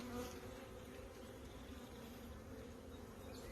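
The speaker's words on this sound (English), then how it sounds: "Bees all over it" A dense, steady buzz of many honey bees on a hive frame in spring, close and continuous, with no voices.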